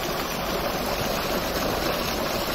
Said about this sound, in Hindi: ये देखें जी टोल से बड़ा साफ सफाफ पानी निकल रहा है